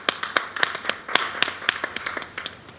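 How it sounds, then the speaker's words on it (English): Sharp, sparse handclaps ring out at an uneven pace for a skateboarder on a 1990 television talent show, sounding like a small group clapping rather than a full crowd. "let's have a round of applause for our Australian champion skateboarder"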